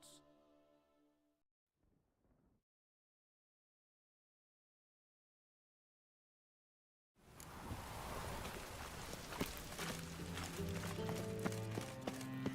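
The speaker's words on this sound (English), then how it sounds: "I like rain. Keeps the rogues indoors." Rain falls in The Witcher 3, a dense steady hiss that starts abruptly after a near-silent gap and keeps on with game ambience, after a brief stretch of speech at the start.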